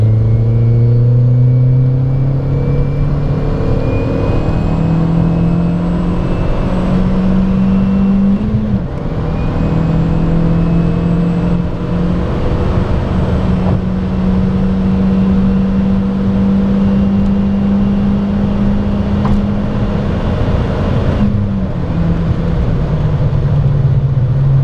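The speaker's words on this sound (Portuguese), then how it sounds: "é o carro a puxar, a subir, ok?" VW Lupo with a swapped 1.8 turbo engine pulling hard uphill, loud close engine drone rising in pitch through the gears with brief dips at shifts, steady road rumble underneath, no talk.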